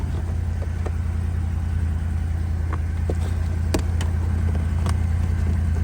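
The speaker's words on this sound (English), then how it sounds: "Unfortunately, I come out, warm my truck up." A pickup truck engine idles steadily while warming up in cold, snowy weather, a constant low rumble close by with a few faint clicks and ticks over it.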